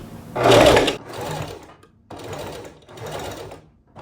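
A sewing machine runs in three loud bursts with short pauses between them, stitching a ruffle into fabric while an upcycled dress is made.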